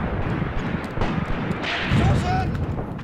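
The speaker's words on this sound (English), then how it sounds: "We are opening fire at the Soviets on this area right here" Gunfire and heavy thumps of artillery or mortars rumble through a World War II battle in the strategy game Graviteam Tactics: Mius Front, with someone talking over the booms.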